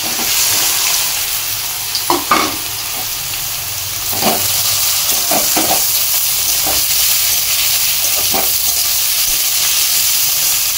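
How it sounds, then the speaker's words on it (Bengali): Chopped potato and carrot sizzling in a generous amount of hot oil in a kadai for egg chowmein, a loud, continuous close-up crackle with a few sharp stirring scrapes and no talking. "তেলটা গরম হয়ে গেছে, এবারে আমি দিয়ে দেবো কেটে রাখা আলু আর গাজরটা"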